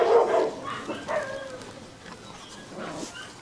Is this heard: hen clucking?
no